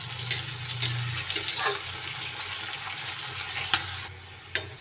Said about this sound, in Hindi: अब इसी तेल में हम डालकर प्याज को भी गोल्डन ब्राउन होने तक फ्राई कर लेंगे।